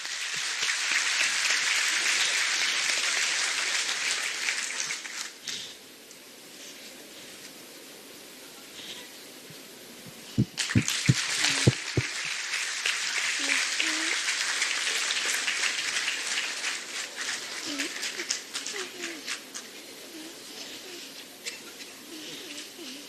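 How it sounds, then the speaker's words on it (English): An audience applauds a student's drawing at a school event, with sustained clapping that briefly drops, then returns with a few louder nearby claps and scattered voices. "Give him a big round of applause."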